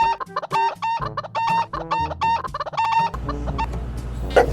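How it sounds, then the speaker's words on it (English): Chickens cluck and squawk in quick repeated bursts up close, followed by a low rumbling background and a faint cry at the end. "The clucking of the chickens that wakes me up early in the morning."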